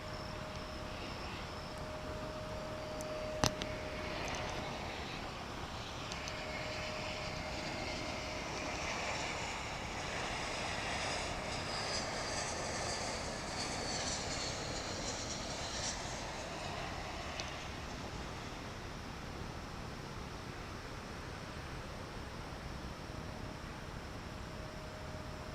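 An airliner lands at DFW International Airport with a distant, steady broadband rumble of jet engines and air rush that swells slightly midway, heard without speech.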